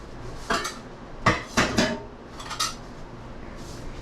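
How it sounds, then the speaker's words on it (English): A spoon stirs and scrapes a pemmican mixture with hot grease in a pot, making several loud, close clanks and scrapes in irregular bursts with quieter gaps between them. "I'm gonna start with a spoon before I use my hands"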